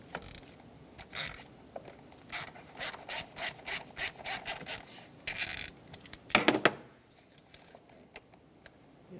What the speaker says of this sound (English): Take a socket with a long extension and remove it.